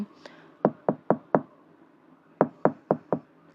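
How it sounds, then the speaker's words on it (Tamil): Knocking on a room door: two sharp bursts of four knocks each, close and crisp, separated by a short pause. "ஏதோ ஒரு ரேண்டமான ரூமை தட்டுறீங்க"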